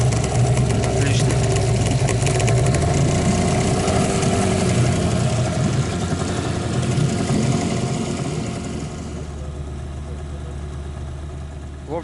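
Two boat outboard motors, one Japanese and one Chinese, idle together in a steady low rumble that stays loud and then eases slightly toward the end, with voices talking over the engine noise.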